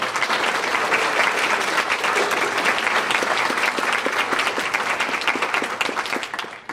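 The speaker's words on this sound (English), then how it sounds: "Let's give our outstanding officers a round of applause." At a school honors program, an audience gives the outstanding student officers a loud round of applause, the packed, rapid clapping holding steady before tapering off at the end.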